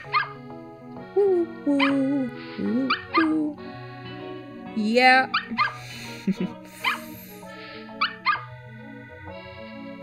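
Cartoonish dog barks and yips from the Nintendogs + Cats video game, a string of short, bright bursts scattered over a light, bouncy musical backing, with someone speaking briefly.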